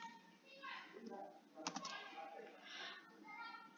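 Computer keyboard typing while entering a spreadsheet lookup formula, steady soft key clicks running throughout, with a brief louder cluster of taps near the middle over faint room noise.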